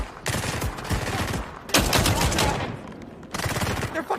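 Dense automatic gunfire rattling through walls in the video game SCP 5k, with sustained bursts, brief lulls and renewed volleys at close range.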